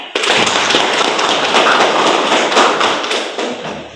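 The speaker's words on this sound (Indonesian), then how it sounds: "Kita kasih aplaus buat Elin." A classroom of students applauds a classmate with dense, close clapping from many hands that starts abruptly, stays lively for about three seconds, then tapers off.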